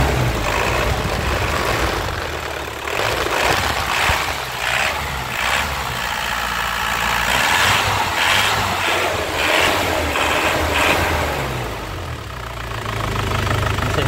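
A 2002 Isuzu Panther diesel engine idles with a knocking clatter, then is revved in several swelling bursts that rise and fall, loud and close with no voices.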